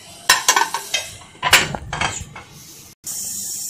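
Utensils scrape and clink in a pan while shami kabab filling is mixed, a few close, uneven strokes with short pauses and a steady hiss near the end.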